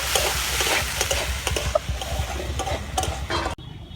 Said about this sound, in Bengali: সব কিছু ভালো করে কষে নেব